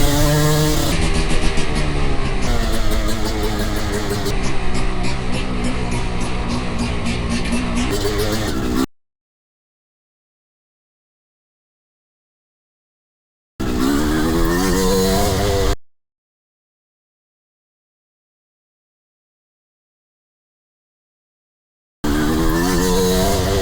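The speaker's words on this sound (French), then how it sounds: "la moto prend des tours démesurés" A motocross motorcycle engine revs hard and high in loud, sustained bursts, cutting out between a long opening run and two shorter later runs, with stretches of silence in between.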